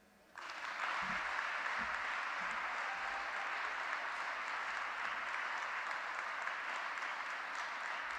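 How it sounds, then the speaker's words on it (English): Audience at a women's forum award ceremony in Portugal breaking into sustained applause after a speech, a sudden onset that becomes a thick, even wall of clapping and holds steady at full strength. "Wow, you get a thundering applause."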